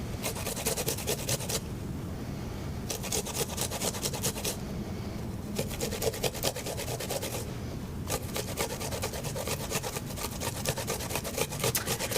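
Food rubbed against a regular box grater in a Korean home kitchen, giving a close, continuous rasping scrape with rhythmic strokes and a couple of short pauses.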